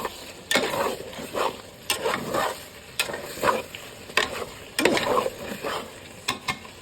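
Food stirred in a large cooking pot: rhythmic scraping and knocking strokes recur about every second over a low sizzle, close and clear with no talk.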